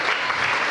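An audience claps at a panel discussion, giving a dense, even wash of applause that stays steady across the short moment, with no distinct voices above it.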